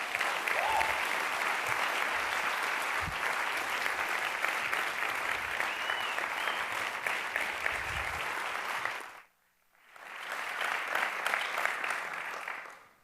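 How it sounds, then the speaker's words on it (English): An audience applauds to welcome Brigadier General Tammy Smith of the U.S. Army Reserve, sustained dense clapping that cuts out briefly near the end and then resumes before fading. "Please, one more time, welcome. Applause."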